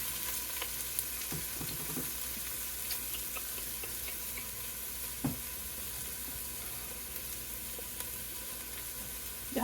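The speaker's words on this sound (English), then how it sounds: "So we've got peppers going in there. Now we're going to toss some onions." Onions and peppers sizzle in a pan for a beef stir fry, giving an even, soft hiss of frying with occasional light clicks of stirring, heard alone without voices.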